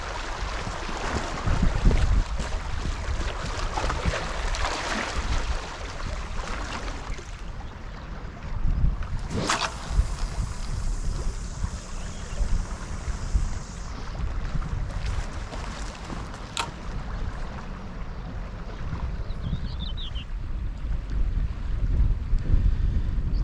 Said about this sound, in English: that northeasterly wind is strong